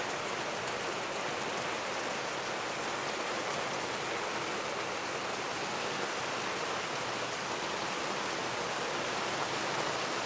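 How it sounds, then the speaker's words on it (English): Steady rain falls at a campsite in Blackwater River State Park, a dense, even hiss of drops that stays constant and fairly loud throughout, with no voices. "So yeah, it started raining."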